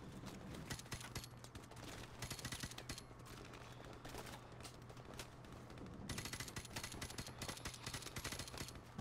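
Rapid bursts of gunfire strike the player during a Modern Warfare Remastered campaign firefight, a dense, continuous barrage of shots and impacts with a steady low hum underneath for the full stretch.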